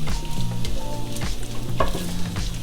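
Bacon frying in a cast iron skillet, a loud steady sizzle broken by repeated scraping sweeps of a utensil stirring the pieces.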